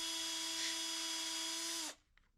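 A hand drill bores through kydex sheet for a pattern-welded ring dagger: a steady, close, high-pitched electric whine holds for about two seconds, then cuts off abruptly into near silence.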